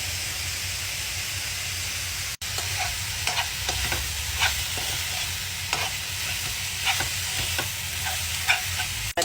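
Beetroot leaf stir-fry being stirred in a pan with salt and grated coconut, a steady sizzle and hiss under repeated scraping strokes of the spoon, close and continuous with no talk.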